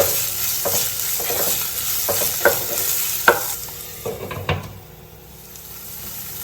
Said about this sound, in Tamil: இது கொஞ்ச நேரம் எண்ணெயிலே நல்லா வதங்கட்டும்.